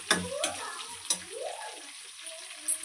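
Chopped green chillies fry in a pan for lemon rice, a faint sizzle with a few sharp spatula scrapes and clinks, close by, alongside a brief low voice.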